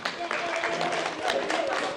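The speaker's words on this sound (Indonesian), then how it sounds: "Tepuk tangan untuk Litersara Production" A classroom group of students claps steadily for a presenting group during a teacher-training lesson, a dense, even patter of applause with voices mixed in.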